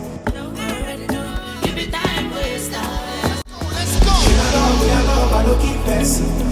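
A full Afrobeats-style music beat with drums and bass, layered choir-style vocal lines, a brief dropout midway, then a denser, louder section with heavy low end.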